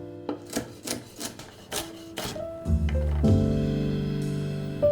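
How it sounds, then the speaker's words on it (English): A knife finely chopping a celery rib on a board for a salad, with a run of crisp, close chopping taps in the first half, then a steadier mixed kitchen sound with a tonal hum takes over. "I start off with 1 celery rib that I chop finely."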